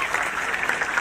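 An audience at a district school judo demonstration in Puri claps steadily, a brief, continuous burst of applause.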